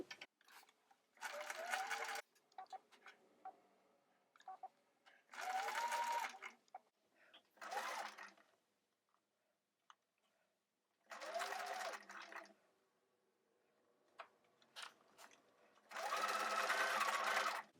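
A sewing machine stitches princess seams on a jumpsuit bodice in several separate bursts of steady whirring, each lasting a second or two with quiet gaps and faint handling noises between them, close by and heard alone.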